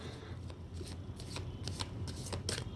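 A tarot card deck is shuffled by hand in repeated riffling bursts, close and crisp over a low steady background.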